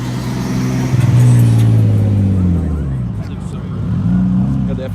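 A Nissan R32 pulls in with its engine revving in a low rising and falling drone, loud and close, as voices talk nearby.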